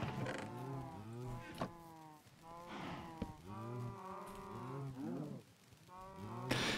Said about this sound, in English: we should probably feed the cows